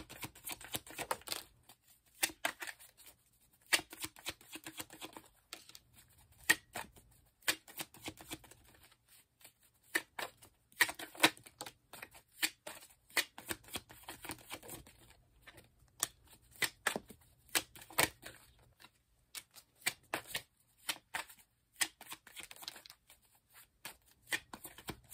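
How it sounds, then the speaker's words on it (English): Tarot cards are shuffled and pulled from the deck, making soft, crisp riffles, slides and small taps in irregular quick bursts. The sound is close and fairly quiet, with no talking. "I want to kind of go through and pull some of my cards to see more about what exactly this is about"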